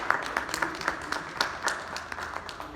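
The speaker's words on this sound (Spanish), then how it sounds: "pido un muy fuerte aplauso" Audience at an academic forum claps in a modest, thin burst of scattered individual hand claps that lasts under three seconds and stays fairly quiet.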